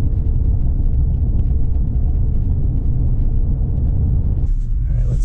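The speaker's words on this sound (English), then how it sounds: "A little bit more wind noise up top with that Thule roof rack." Inside a lifted 2020 Subaru Outback XT fitted with a Thule roof rack, loud steady wind roar and road rumble fill the cabin without a break.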